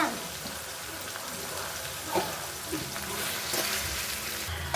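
Ingredients for sabudana upma, including red chilli sauce, fry in a pan with a continuous crackling sizzle and a few stirring scrapes, close and fairly loud.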